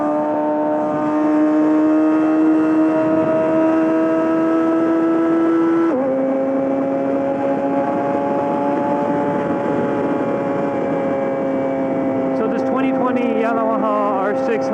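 A Yamaha R6 sport motorcycle with a full M4 exhaust system hums along under riding, its steady engine tone shifting pitch around a gear change, heard beneath a rider's continuous talk.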